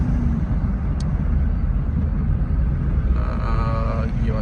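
A car drives along a motorway near Islamabad and Rawalpindi, its road and engine noise a steady loud rumble throughout, with a short high chime partway through.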